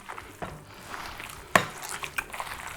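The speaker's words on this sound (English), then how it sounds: "Shred it up while you're mixing in the bowl." Smoked yellowfin tuna dip being mixed and shredded by hand in a bowl, with soft wet stirring and squishing, quiet bowl clinks and one sharper knock partway through, close up and without talk.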